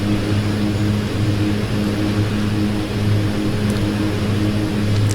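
An OV-10 Bronco twin propeller airplane drones in the flight simulator DCS, a loud, steady engine hum with a low tonal throb, continuous and close with no voices.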